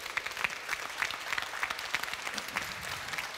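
An audience at a short film festival in Paliano applauds the organisers, a moderate round of clapping with distinct individual claps popping out over a softer crowd wash.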